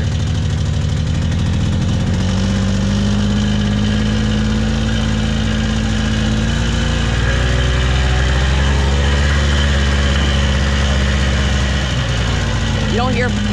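A Polaris four-wheeler engine runs close by in a wooded trail setting, a loud, steady low drone with a rough idling vibration that holds unbroken through the whole stretch.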